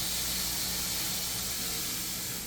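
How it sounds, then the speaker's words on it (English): London broil beef searing on a Ninja Grill gives a steady, close sizzle and hiss that holds evenly throughout, with no talking. "Probably hear that sear there."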